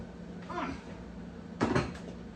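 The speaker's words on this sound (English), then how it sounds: "let me get my other pot on the stove" A cooking pot clunks onto a kitchen stove with two hard knocks, a softer one first and then a louder, sharper one, set against a quiet background.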